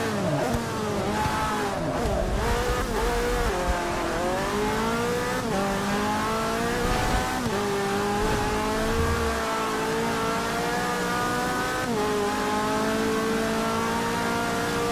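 A race car in Forza Motorsport 6 laps Sebring International Raceway on a wet track, its engine revving steadily up and down through gear changes as a continuous loud drone with no talking.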